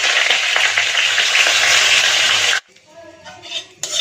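Panch phoron, bay leaf and dried red chili hit hot oil in a kadai, a loud dense crackling sizzle that cuts off abruptly, leaving faint clinks and quiet kitchen noise.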